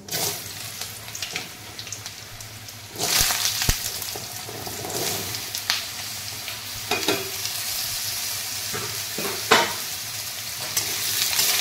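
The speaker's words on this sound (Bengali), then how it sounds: "এরপর আমি আলুগুলো ভালো করে ভেজে নেব।" Cut potatoes fry in hot oil for aloo posto, a steady sizzle with scrapes and clatter of stirring that grows louder about three seconds in, no voices.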